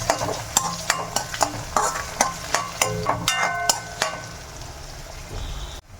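Green chillies are stirred into puffed rice in a pan, with a utensil scraping and clacking in quick, regular strokes over a soft, steady sizzle, close and fairly loud with no talking.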